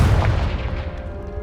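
A Confringo blasting curse explodes in the Hogwarts Legacy video game, a single loud, deep boom with a rumbling tail that fades steadily over about a second, with no talking.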